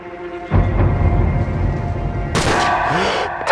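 Gunfire bursts out in Call of Duty 4: Modern Warfare during a sniper-team ambush, loud and sustained with a sharp crack and boom of shots near the end, alone without talk.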